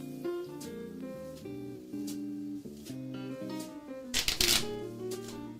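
Exploding Kittens draw pile being shuffled at a tabletop game session, a brief burst of riffling cards near the end, heard up close under a bed of steady background music.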